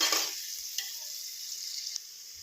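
Onion sizzles with curry leaves and peanuts being sautéed in a pan for a rice pulao or khichdi, opening with a loud burst of frying that settles into a steady soft hiss, with a couple of faint clicks.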